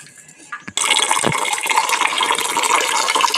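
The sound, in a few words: water poured into a bowl of curd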